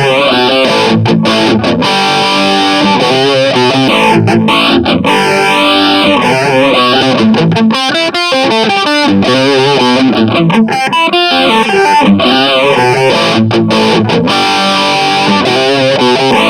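Electric guitar run through a phaser effect after the distortion pedal, loud and continuous with heavily swirling, sweeping phase tones over driven chords and riffs, no voices.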